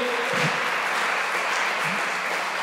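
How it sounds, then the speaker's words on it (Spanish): A church congregation claps during Monday praise worship, a steady crackling applause filling the hall throughout, with a brief voice and faint music underneath. "Denle un aplauso al Señor."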